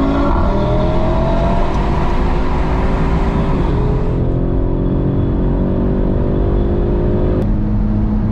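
Engines of a new and an older Audi RS3 roar steadily at full throttle in a drag race, the pitch climbing, dipping at a gear change, then rising again, loud and close with no talk.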